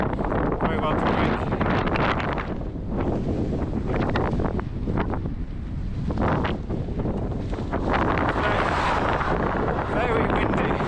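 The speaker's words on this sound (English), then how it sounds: "Very windy." Strong wind on the Scottish coast near Lochcarron buffets the microphone in a steady, roaring rush across the whole clip, with a voice faintly present beneath the blustery noise.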